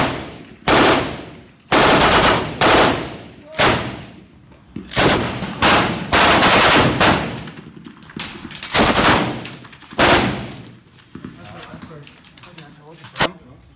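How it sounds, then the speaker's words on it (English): Machine gun fired in repeated sustained bursts during joint Israeli and U.S. paratrooper training, loud and close, with several separate volleys over a short span and shouted voices between them. "they're running like 2 to 3 bursts every time, so let's just keep that up"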